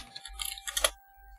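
Mechanical keyboard switches clicking like blue switches, a short burst of rapid, close, crisp clicks in clustered groups lasting about a second.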